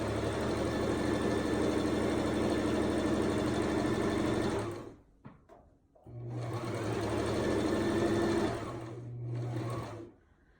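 A sewing machine stitches a baby blanket in two long, loud, steady whirring runs of rapid stitching, split by a brief pause with small handling noises and ending in a short burst.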